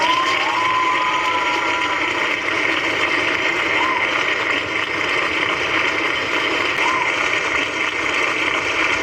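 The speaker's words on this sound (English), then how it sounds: "Please give her a round of applause." A crowd at a speech event at Infinity Waterways in New Rocksville, New Jersey, gives steady applause and cheering, a dense wash of clapping with a few whistles throughout.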